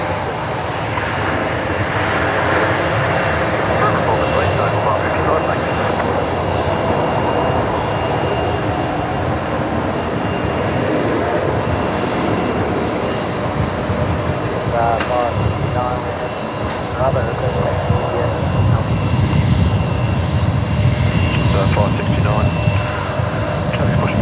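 Aircraft engines roar steadily on the runway at Brisbane Airport, a loud, continuous broadband drone that swells slightly late on, with voices talking faintly beneath it.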